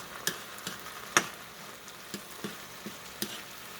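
Onions, peas and carrots stir-fry in a hot wok with a soft, steady sizzle under a series of light scraping ticks from a spatula, spaced irregularly, quiet and close with no talking.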